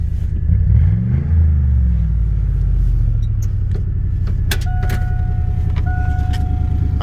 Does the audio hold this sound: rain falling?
no